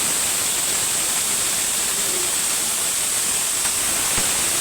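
Red amaranth greens fry in a wok with a loud, dense, continuous sizzle that holds steady throughout, close and unbroken, with no voices over it.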